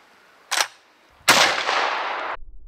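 A shotgun firing a 3-inch number 2 shot shell cracks once as a short sharp report. It is followed by a longer loud burst of noise that lasts about a second before cutting off.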